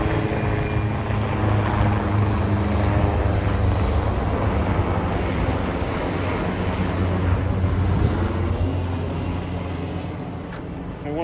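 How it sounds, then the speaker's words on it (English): A hospital helicopter passes right overhead in an urban park, its steady, loud rotor and engine drone filling the whole stretch and fading slightly at the end, with no talk. "hospital helicopter right overhead."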